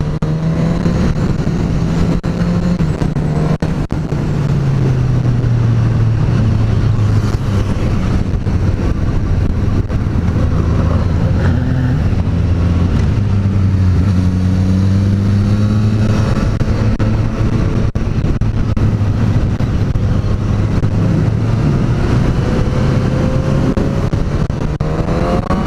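A Suzuki GSX-S 1000 inline-four motorcycle engine hums steadily while riding, its pitch rising and falling as the rider shifts and accelerates, with constant loud wind roar throughout and no talking.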